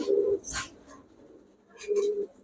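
A male kalpik pigeon gives two close cooing calls about two seconds apart, with soft rustling between them.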